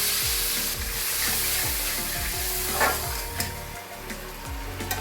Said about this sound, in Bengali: আমি এবার জল দিয়ে মশলাটা খুব ভালো করে কষিয়ে নিচ্ছি।